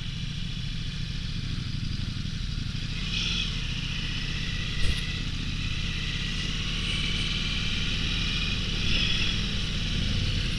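A Ducati Multistrada V4 S motorcycle cruising on a highway, its engine a steady close drone layered with rushing wind noise, rising slightly toward the end.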